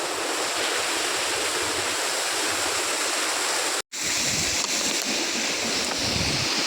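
A waterfall near Manali, the Moskovitz falls, sends out a constant broad rushing roar, loud and close, cut by a brief dropout midway.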